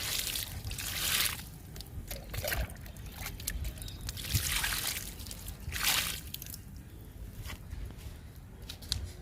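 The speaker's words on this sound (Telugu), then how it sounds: "సొరపాదుకి వాటర్ ఇస్తున్నా" Water trickles and sloshes steadily onto the soil of a bottle gourd plant, with a few louder splashing surges; no voices.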